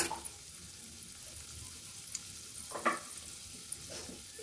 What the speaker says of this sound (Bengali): সেমাইটা দিয়ে দেব।